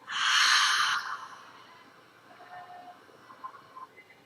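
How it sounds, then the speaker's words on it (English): A person exhales audibly through the mouth during a yoga breathing exercise: one breathy, airy out-breath lasting about a second, followed by quiet room sound with faint small noises. "Exhale through your mouth."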